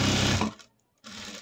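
Sewing machine stitching a 36-inch chudithar top, a fast dense whirring run for under half a second that stops abruptly, a brief silence, then the motor resumes.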